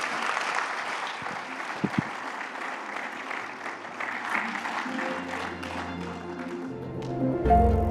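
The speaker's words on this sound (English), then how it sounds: "Can we have a round of applause for our panel?" A conference audience applauds a panel at a wildlife business forum, steady clapping filling the room for several seconds before fading out under a low tone and a brief thump near the end.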